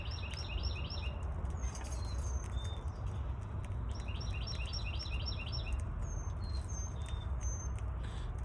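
Budgies chirp in short repeated bursts while eating seed from a hand, the high twittering coming in two clusters over a steady background rustle and faint patter.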